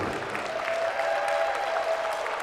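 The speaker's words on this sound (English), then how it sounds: "give another big round of applause for Mr. Dick Riley" An audience at a middle school state hockey championship in West Virginia applauds, a dense, steady wash of clapping from a crowd that carries evenly throughout without any talk.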